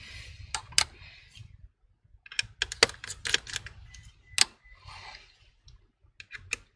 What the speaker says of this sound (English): Go ahead and remove all the screws here.